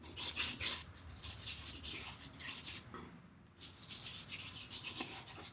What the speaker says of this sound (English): Proraso green here, creamy version. Just rub it in.